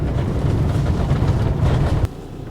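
A motorhome camper van of six to nine metres rolls along a road, giving a steady low rumble of engine and road noise that drops away abruptly near the end.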